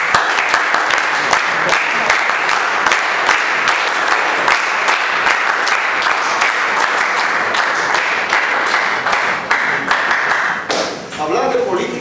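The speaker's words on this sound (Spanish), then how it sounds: "hay que tributarle un fuerte aplauso." Audience at a political school's inaugural talk giving a strong round of applause, dense continuous clapping throughout that thins out near the end as a voice starts to speak.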